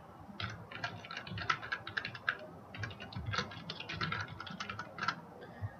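Someone types an email address on a computer keyboard in quick, light key clicks, a close steady patter of taps with brief pauses and no talking.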